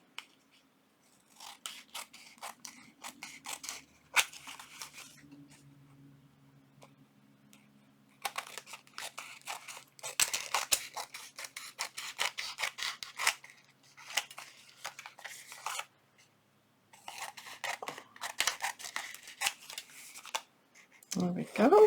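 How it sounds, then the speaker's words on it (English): Scissors trim paper for a botanical junk journal: a long run of close, crisp snips and rustling cuts in clusters, with a brief low voice near the start. "All right, so we're going to trim it."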